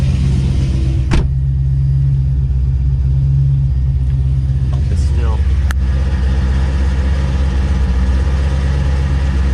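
A ZL1 fuel pump fitted to a G8 car, its engine idling steadily in warm-up startup mode with a low constant rumble, while someone speaks briefly over it.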